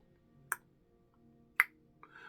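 A voice imitates the strange tongue-clicking noise a young girl makes in the horror film Hereditary: two sharp, isolated clicks about a second apart, followed by a softer trailing click, against near silence.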